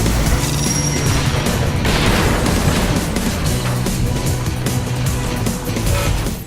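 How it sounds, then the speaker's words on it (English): Loud, dense roar of racing cars and explosions in the arcade racer Split Second, with booms and crashes piling up continuously. "as cars and explosions roar through some very aggressive positional audio."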